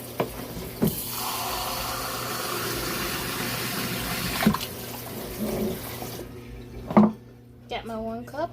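Water runs from a kitchen tap into a measuring cup, a steady rushing stream that stops near the end, followed by a voice speaking nearby, with a few clunks of handling.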